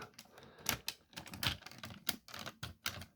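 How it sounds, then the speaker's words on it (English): Plastic parts of a Cybertron Optimus Prime toy are folded out, making a quick run of close, crisp clicks and snaps at an uneven pace, with no voice over them. "You fold those bits out, right?"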